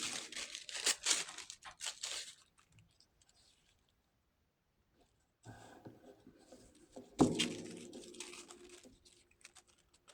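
Tissue paper being torn and crumpled for a mixed-media craft project, with bursts of crisp rustling and ripping near the start, a quiet pause, then a louder close crinkle and tear that trails off.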